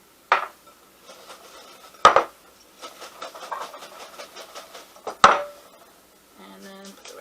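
Fresh french fries tossed with a sprinkle of salt in a bowl give three sharp clattering knocks against the sides, with a softer rustle of fries shifting between them.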